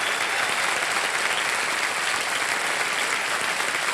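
The studio audience of the KBC quiz show gives steady, loud, dense applause that continues evenly with no break and no voices over it.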